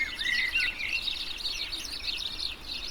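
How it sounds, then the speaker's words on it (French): A blue tit calls in a garden, a run of bright, high chirps and short trilled notes carrying on steadily for a few seconds with no voices. "La mésange bleue."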